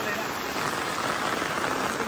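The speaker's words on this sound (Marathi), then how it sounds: "पाऊस थांबा गो पाऊस थांबा गो" Heavy monsoon rain pours down beside a fishing pond in Konkan, a dense, steady, close hiss of drops drumming on surfaces with no break throughout.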